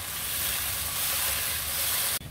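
Three chopped onions frying in a pan until lightly browned, a close, continuous loud sizzle with steady crackle throughout, cutting off abruptly at the end, no voices.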